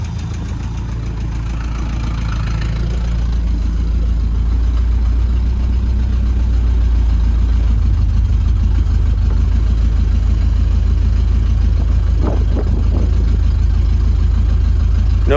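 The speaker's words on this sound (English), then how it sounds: "no transmission, and the engine sounds really weird" A 1971 International truck engine, abandoned for decades and run with no coolant, idles roughly with a loud, continuous low rumble and an uneven knocking pulse, close up with no talk over it.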